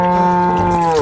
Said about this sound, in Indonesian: ternyata yang ini indukan sapi